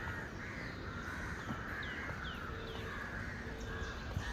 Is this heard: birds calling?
yes